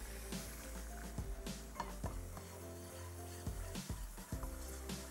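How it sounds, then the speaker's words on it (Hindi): Flour cooks in a little oil in a pan with a faint sizzle, overlaid by scraping and stirring of a spoon against metal, quiet and close. "मैदे को थोड़े से ऑयल के साथ हमने थोड़ा पकाना है ताकि मैदे का कच्चापन दूर हो जाए"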